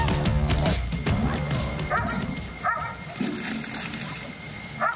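A Belgian Malinois barks during Mondioring level 2 training on a field, a few sharp close barks and yips amid handler commands and people talking.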